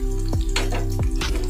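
Onion with garlic-ginger paste, bay leaf, black pepper and chopped tomato sizzles steadily in a pan, with a few close stirring scrapes cutting through the constant frying hiss.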